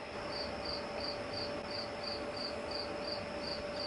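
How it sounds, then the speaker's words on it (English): Crickets chirping indoors during a makeup session, a steady, evenly pulsed trill repeating about three times a second over a constant faint hiss. "Can you hear the cricket?"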